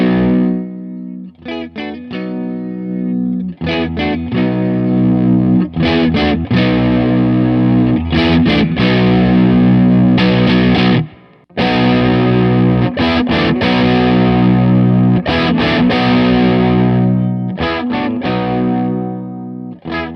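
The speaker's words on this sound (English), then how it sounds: "let's check out how these pickups clean up real quick" Loud, overdriven Squier Affinity Jazzmaster electric guitar at full volume playing chugging riffs in repeated bursts, with a brief gap of silence midway before the heavy playing resumes.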